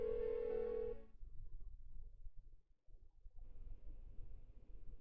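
A phone rings unanswered in the video game Persona 4 Golden, a bright electronic tone sounding loud for about a second before cutting off, leaving faint murmuring background sound.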